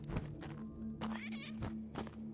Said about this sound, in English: Cat's in here.